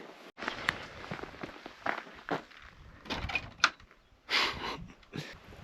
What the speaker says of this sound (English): The door just shut as soon as I walked up here.